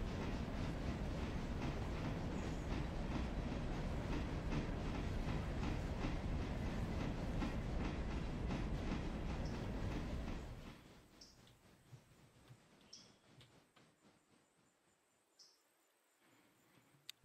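A freight train rolls downhill in the Railroader video game, a dense steady rumble with rapid clickety-clack rail beats for about ten seconds, then dropping away to a faint distant hum.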